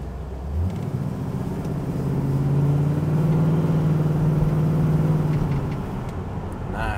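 A 1976 Pontiac Trans Am engine drones steadily from inside while driving, its pitch rising and holding as it pulls along in second gear, with low road rumble throughout.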